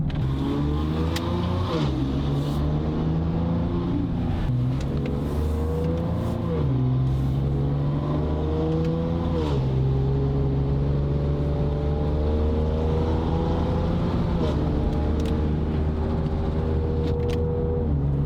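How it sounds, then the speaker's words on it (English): Steady engine drone heard from inside a moving Ford Explorer ST with a Valvetronic exhaust, the exhaust note rising and falling through gear shifts over about eighteen seconds, no talking. "Just listen to how good it sounds inside this Explorer."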